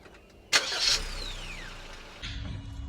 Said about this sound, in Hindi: गाड़ी ऑन करके बैठ गई है